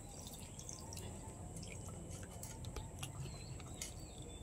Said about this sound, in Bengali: এবার আমি এই জলটা ঝরিয়ে নেবো। একটা ছাঁকনি নিয়েছি, ছাঁকনির মধ্যে ঢেলে দেবো।